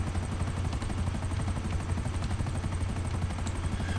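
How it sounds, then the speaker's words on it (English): Helicopter flying in GTA 5 Online, a steady rapid rotor thump with low engine drone held throughout at moderate level, with no talk. "Not on this helicopter."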